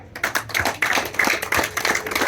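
A crowd at a Rwandan bride-asking ceremony claps in loud, uneven bursts, sharp hand slaps overlapping in quick rhythmic waves, close and without talk.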